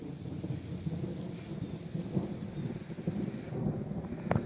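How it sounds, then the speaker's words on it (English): Low, rolling thunder rumbles in the distance over a closed, overgrown golf course, with steady rain-like wash and faint wind, continuous and fairly quiet throughout. "you can hear the thunder"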